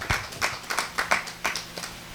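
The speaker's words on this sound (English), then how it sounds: "So you give yourself a round of applause" Sparse, uneven clapping from a small audience at a prize-giving awards ceremony, about a dozen distinct claps close by with short gaps between them.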